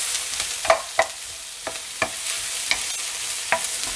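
Carrots and onions stir-fry in oil in a pan for japchae, a soft continuous sizzle broken by a few sharp spatula scrapes and clacks against the pan, close up, with no voices.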